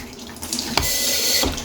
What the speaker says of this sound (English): when you press down, that's when the water activates, and only when it activates.